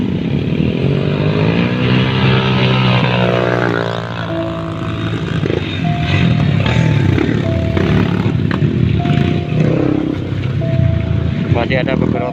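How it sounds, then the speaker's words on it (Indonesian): Motorcycle engines rumble and rev as bikes pass close by, their pitch sliding, while a person talks over the steady roar. "Masih ada beberapa motor lagi."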